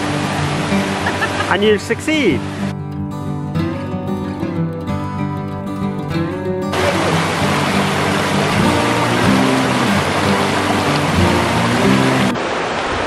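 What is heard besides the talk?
stream water flowing over stones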